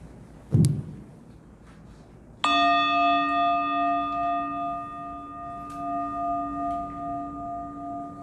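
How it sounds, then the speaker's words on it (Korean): A bell rings out at a Korean institute's opening ceremony, preceded by a brief knock or thud; the single strike leaves a long, clear ringing tone that sustains and slowly pulses for several seconds. "제가 종을 울리고 다시 종이 울릴 때까지"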